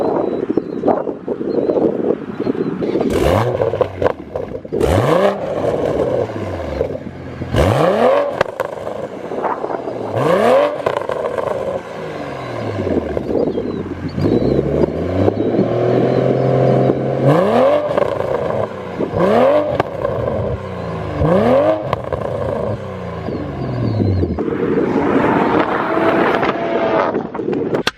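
A Toyota Supra with a dual cat-back exhaust revs repeatedly in sharp rising bursts, roaring and dropping back between each, with wind buffeting the microphone.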